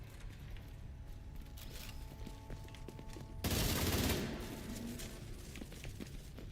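Gunfire in The Division 2, a sudden loud burst of shots cutting through quieter game background noise, then fading back into ambient sound.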